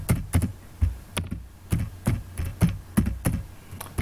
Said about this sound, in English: so I'm going to type in my name,